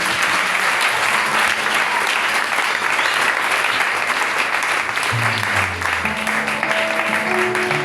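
A church congregation at a celebration service bursts into sustained, loud applause and cheering praising the Lord, a dense unbroken wash of clapping that fills the whole stretch, with occasional voices rising through it.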